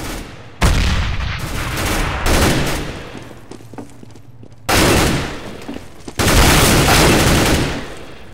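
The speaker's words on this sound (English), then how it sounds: "Grenade out." Gunfire and a grenade blast in Counter-Strike: Global Offensive on the de_italy map, with loud broadband bursts alternating with quieter gaps over several seconds.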